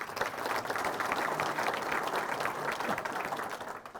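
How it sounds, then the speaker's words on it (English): Crowd applause at a Quilts of Valor ceremony held in a quilt museum, a dense, even clapping from many people that tapers slightly toward the end. "Please give him applause."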